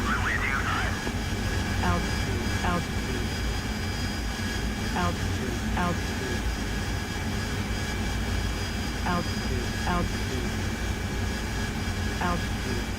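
A Harrier jet hovering in the DCS World flight simulator, a loud continuous engine roar with a high whine throughout, with intermittent short chirping cockpit tones over it.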